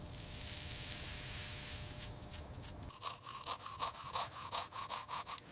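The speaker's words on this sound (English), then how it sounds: "Using a brass brush, carefully working away at the loosened rust." A brass brush scrubs loosened rust from a vintage revolver after solvent treatment, heard as quiet, rhythmic back-and-forth rasping strokes close up, coming in short bursts in the second half after a steady low hiss.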